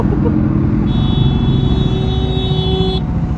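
Steady engine rumble from a nearby Triumph Scrambler 400X motorcycle, continuous and fairly loud, with a thin high tone over it.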